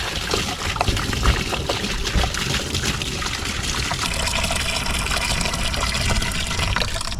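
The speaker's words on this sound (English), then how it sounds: "Nice thing is I'm letting it drain out of the little back drain on the tank" Water gushes and trickles as it drains from the small rear drain of a rusty motorcycle gas tank being flushed, a steady, close splashing flow with no talk.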